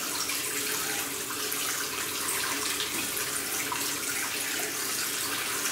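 Tap water running steadily into a sink while a face is washed, a constant close rushing splash with no pauses and no voices.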